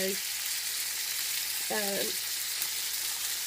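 Pork chops browning in a frying pan give a steady, close broadband sizzle that holds evenly throughout, with a brief clink or scrape of a utensil partway through.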